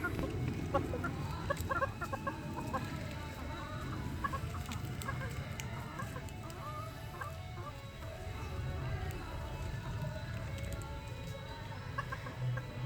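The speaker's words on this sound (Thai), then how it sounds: "อ้วนกับแก๊งไก่ อ้วนมาเดินเล่น วันนี้" Hens cluck softly and intermittently outdoors over steady background hum, a rooster among them, with occasional faint bird calls and quiet rustling.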